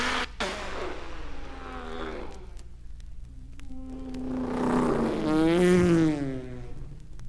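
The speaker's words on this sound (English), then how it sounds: "The Duke has arrived in his little Morris, beautifully painted in 3 shades of royal mauve" A small Morris car, painted in three shades of mauve, arrives during a comedy motor race, its engine whining and revving up close, swelling in pitch and loudness before settling.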